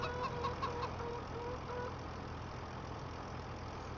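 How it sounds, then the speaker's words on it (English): Chickens cluck softly in a homestead survival video game, a few short calls early on over a steady low engine-like drone that continues throughout. "let's go over and check our chickens."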